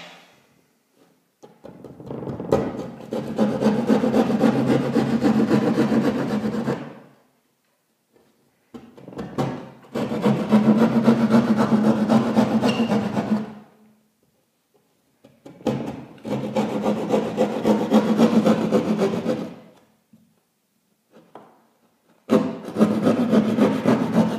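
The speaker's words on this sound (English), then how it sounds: "we're going to cut out that damaged area with our drywall saw" A drywall saw cutting out a damaged section of drywall, heard up close in four long bursts of rasping back-and-forth strokes separated by short pauses.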